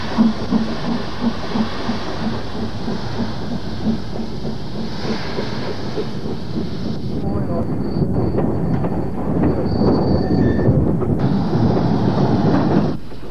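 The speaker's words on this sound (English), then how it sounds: "The 9F now leaves Banbury with a train which will join the former Great Central Railway south of Woodford House" A British Rail 9F steam locomotive pulls a train out of Banbury with rhythmic chuffing and rolling rail noise, growing louder and rumbling toward the end, with a faint high whistle-like tone.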